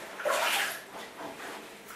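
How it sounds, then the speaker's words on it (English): Water draining out of a bathtub that holds a soaked cotton tent, a soft, steady gurgling rush heard up close at low volume, with no talking. "all I'm going to do now is drain the bath"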